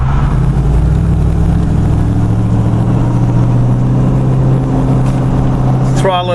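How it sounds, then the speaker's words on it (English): A car with an LS3 engine cruising gently at low revs, giving off a steady, low, soft rumble. A brief sharper whoosh comes near the end, and there is no talking. "Barely hear the engine cruising."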